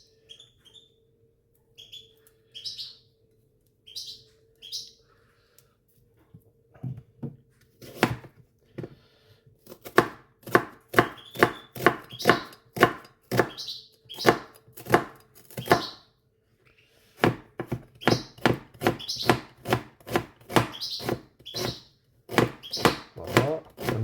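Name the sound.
chopping onion with a knife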